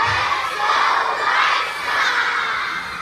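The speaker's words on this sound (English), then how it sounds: "As they arrived at the stadium, fans cheered." White Sox baseball fans arriving at the stadium cheer and shout together, a dense crowd roar that swells and eases slightly, with high children's voices in the mix.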